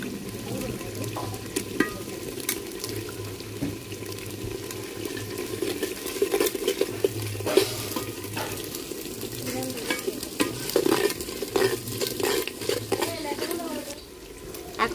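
Cumin and coriander paste fries and is stirred in a pan after ginger and garlic for handi chicken, giving a close, continuous sizzle with scraping stirs throughout while a voice talks over it.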